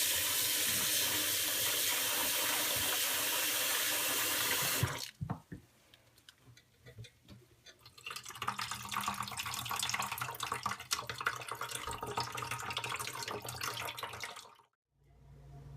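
Tap water runs hard into a sink while chenna is washed for rasgulla, a loud rushing stream that stops briefly, then returns more unevenly with splashing before cutting off near the end.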